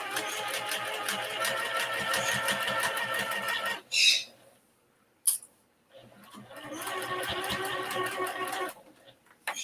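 A sewing machine stitches the back side of a fabric shopping bag in two sustained bursts separated by a quiet gap, a rapid mechanical chatter heard up close, with some brief talk.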